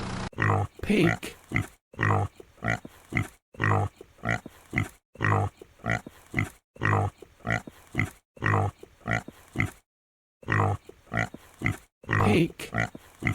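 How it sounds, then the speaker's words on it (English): A pig grunts and oinks in a series of about a dozen short, loud, evenly spaced bursts, each separated by brief silences, with a longer gap near the end before the calls resume. "Pig."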